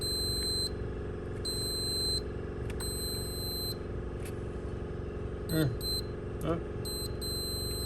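Circuit tester beeping during a wiggle test on a 2011 Toyota Tundra, repeated high steady beeps in short on-off bursts over a low electrical hum, with a brief spoken exclamation.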